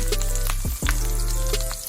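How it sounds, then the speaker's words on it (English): Melted butter sizzles and crackles steadily in a hot pan as steak seasoning goes in for cooking ribeye, with a bright frying hiss and a few scraping stirs, and no talking. "Once our butter is boiling or sizzling, we're going to add our steak seasoning down to the pan."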